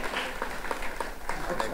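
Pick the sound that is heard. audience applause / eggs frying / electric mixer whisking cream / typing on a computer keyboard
audience applause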